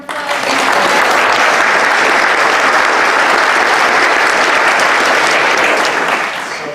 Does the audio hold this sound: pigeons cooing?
no